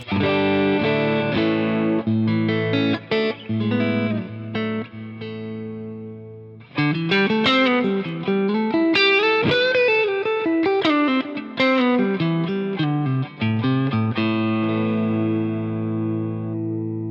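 Clean electric guitar, a Friedman Vintage S on its neck pickup, with a warm, rounded tone plays chords, then a melodic run of single notes, ringing out with a slight effect shimmer, no voices.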